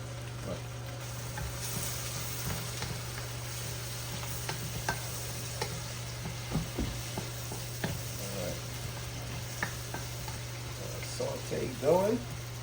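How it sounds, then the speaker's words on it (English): Chicken, pork and lamb sauté in a hot pan in a home kitchen, giving a steady broadband sizzle over a low hum. Occasional stirring clinks and scrapes rise near the end. "Saute going."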